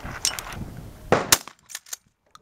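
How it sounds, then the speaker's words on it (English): A 12 gauge shotgun fires at clay pigeons outdoors, with a few sharp, moderately distant reports spread across a couple of seconds, plus smaller clacks and thuds. "You hear that gun firing?"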